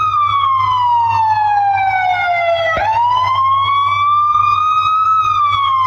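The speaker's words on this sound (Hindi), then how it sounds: "अचानक शहर की दिशा से सायरन की आवाज आई।" A police siren wails from the direction of a city, a loud, continuous rising-and-falling tone that dips sharply midway and then climbs again, with nothing else heard alongside it.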